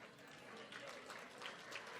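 Scattered applause from a small audience at a morning business networking event, a soft, even patter of clapping hands lasting a couple of seconds.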